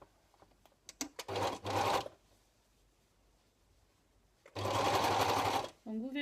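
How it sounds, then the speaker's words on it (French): A sewing machine or serger stitches fabric for a new ironing board cover in loud bursts, first a few quick runs and then a long steady one, with quiet pauses in between. "vous allez vous placer à la machine. Surjeteuse ou machine à coudre, c'est comme vous préférez."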